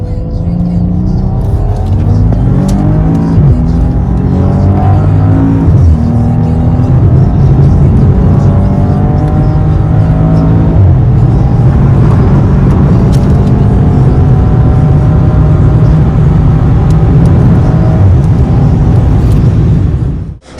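A Maserati Ghibli S engine roars loudly and continuously, revving up through the gears as it accelerates hard, heard close from inside the car.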